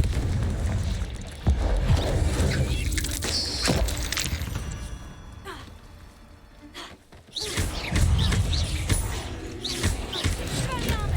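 Confringo spell explosions in Hogwarts Legacy: loud, dense booming blasts with a sharp hit early on, then continuous crackling rumble that briefly dips before surging again.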